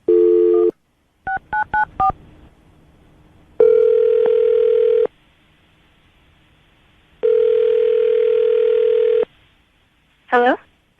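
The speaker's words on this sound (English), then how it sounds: "we'll dial the number" A telephone line gives a burst of tone, then a quick run of DTMF keypad beeps while a number is dialled, followed by two long ringback tones and a short voice at the end.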